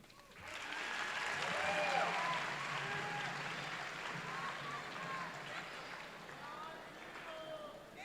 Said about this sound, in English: Let's have another round of applause for Zaytuna